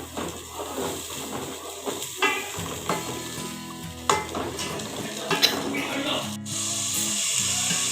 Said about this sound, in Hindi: प्याज को अच्छे से भून लेंगे हम, जब तक इसका कलर चेंज नहीं हो जाता